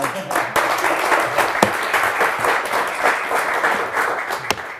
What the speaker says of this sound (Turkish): alkış daha lütfen